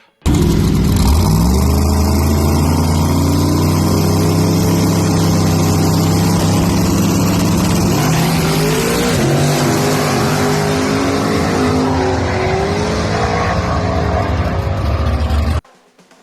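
A no prep drag racing truck at a World Series of No Prep race launches and makes a full pass, its engine roaring loud and sustained with rising and shifting pitch for about fifteen seconds before cutting off abruptly.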